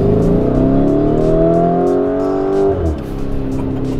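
An exclusive SUV in Corsa mode accelerates hard from inside, its loud engine note rising steadily for a few seconds before dropping sharply at a shift and settling into a lower drone.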